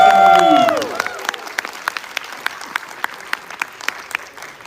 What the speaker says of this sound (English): Because you clap so loud, kan?